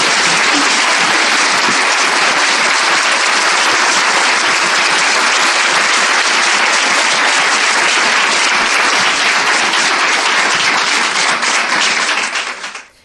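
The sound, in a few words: congregation applause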